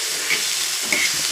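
Chopped tomatoes frying in a pan for green tomato chutney give a steady, close sizzle and hiss. Two brief brighter spurts rise out of it, and no voices are heard.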